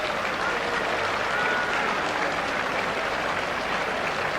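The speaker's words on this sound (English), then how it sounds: "Mick Dwyer getting a healthy round of applause." A packed football crowd at Moorabbin applauds steadily, a dense continuous wash of clapping and crowd noise that holds at full volume throughout.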